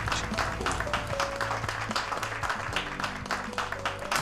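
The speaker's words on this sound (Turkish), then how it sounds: "Kendisi için büyük bir alkış rica ediyorum." A gathering claps in applause during a family celebration scene in a Turkish drama, steady moderate clapping with music or tonal sounds running underneath.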